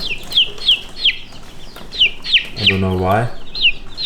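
Red Mottled Ancona bantam chicks give repeated high, descending peeps in a quick irregular series, close and clear, while a voice speaks briefly in the middle.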